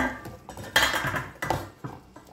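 A metal lid is set onto a cooking pot of seafood noodles with a few sharp clanks and rattles, close by, then settling clinks.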